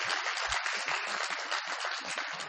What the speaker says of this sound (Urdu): اب تالی بھی آپ جھجک کے بجا رہے ہیں